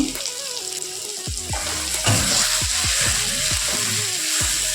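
A little water is poured into a pan of cooking spice masala made with turmeric, Kashmiri chili, cumin and coriander powders. The pour trickles and bubbles close by, with sizzling underneath and no talk.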